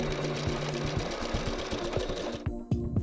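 A sewing machine runs a zigzag stitch to tack ribbons together for a headband, giving a fast, even mechanical chatter close up that slows and stops near the end.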